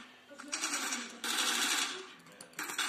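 Rapid bursts of gunfire from a shooting video game, loud, broken into three dense automatic volleys with short pauses between them.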